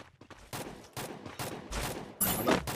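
Sniper rifle gunfire in the Free Fire battle royale game, several sharp cracking shots in irregular succession over game background noise, with a louder burst near the end.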